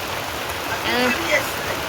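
Sudden heavy rain pours down in an even, dense hiss, with a brief voice rising over it midway.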